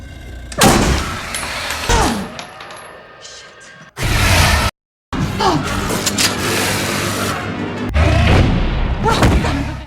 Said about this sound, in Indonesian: Jesse mengingatkan Bailey agar jangan asal tembak karena stok peluru mereka terbatas